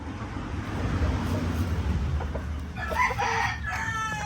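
A Kelso gamefowl rooster crows on a farm, the call rising near the end over a steady low rumble of outdoor background noise, with no voices.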